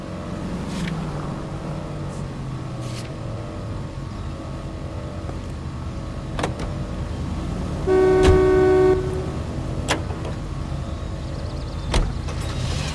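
A car rolls steadily through city streets in L.A. Noire, with a low continuous engine hum and road noise, a long car horn blaring midway and a few faint clicks and knocks, with no talking.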